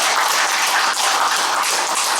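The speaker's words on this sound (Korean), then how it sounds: "또 회장님들, 위원장님들께 박수 한번 부탁드립니다" An audience at an academic society's anniversary conference applauds award recipients and committee chairs. The clapping is a dense, steady roar of many hands that fills the space and keeps going without a break.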